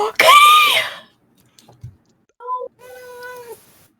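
A person imitates a cat with one loud, drawn-out meow, followed by a few softer, shorter mewing sounds after a brief pause.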